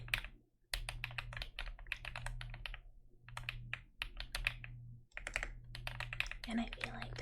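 Rapid, clacky typing on a mechanical computer keyboard, close and crisp, in bursts of keystrokes separated by short pauses, with a steady low hum underneath.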